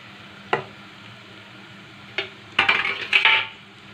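Cumin, chilli and turmeric powders frying in a pan for a fish curry with taro, stirred in a few scraping bursts over a quiet steady sizzle, loudest near the end.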